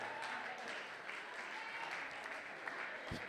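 Congregation applauding during a Sunday church service, a steady wash of clapping hands sustained throughout without speech.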